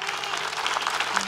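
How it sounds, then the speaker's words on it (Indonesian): Studio audience applauding on a TV show, a dense, steady burst of clapping from a crowd at close range, with a faint voice beneath. "Kasih tepuk tangan buat Mbak Nisa dong penonton"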